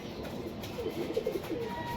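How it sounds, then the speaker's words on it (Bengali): An old red-eyed pigeon gives a faint, brief run of soft cooing notes in the middle, over a steady background hum. "দাদার সবচেয়ে কাছের পায়রা এটা"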